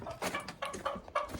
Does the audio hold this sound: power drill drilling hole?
no